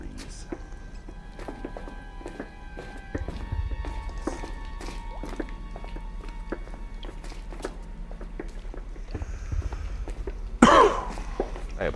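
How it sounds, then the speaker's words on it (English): A person playing a video game gives one sharp, close cough near the end, heard over a steady bed of game sounds with footsteps and clatter. "I apologize if that cough was loud."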